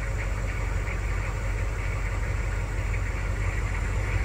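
A flatbed semi-truck's engine idles after starting, a steady, close, low rumble with constant vibration and no pauses, and no one speaks over it.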